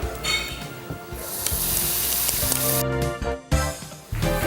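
Bacon sizzles and spits in a hot pan, a loud steady frying hiss with crackling that briefly drops out and returns, along with light clinks of utensils.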